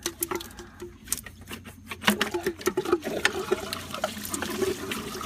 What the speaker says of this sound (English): Make sure you're catching all the fluid that's going down on the floor.